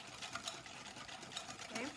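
Egg yolks being whisked with sugar in a bowl give a quiet, rapid and steady rhythmic scraping and tapping that runs throughout.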